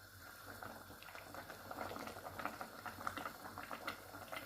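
Spinach stew sauce bubbling in a pot, a soft continuous simmer with irregular small pops and blips, fairly quiet and close.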